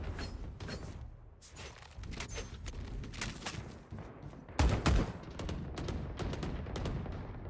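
Gunfire in the tactical shooter Valorant comes in rapid bursts and single cracks at varying loudness, with a heavier boom near the middle, forming a dense, choppy round of in-game shooting.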